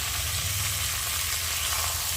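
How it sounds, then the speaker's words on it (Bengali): Chicken pieces sizzle in hot oil and spiced masala, a steady, close frying hiss that runs unbroken with no talking. "আর এখন আমি চিকেন দিয়ে ভালো করে কষিয়ে দেবো"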